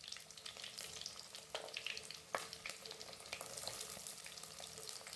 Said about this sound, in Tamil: கட் பண்ண வெங்காயத்தை சேர்த்துக்கலாம்